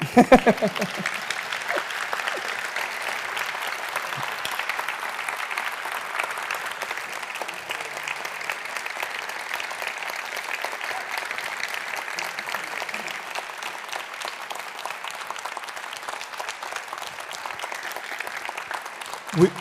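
An audience at a talk on music and code applauds steadily for about twenty seconds, a dense, even wash of many hands clapping with no voices over it.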